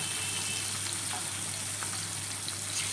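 Fish fries in hot oil until golden, with a loud, steady crackling sizzle that carries on without a break and has no voices over it.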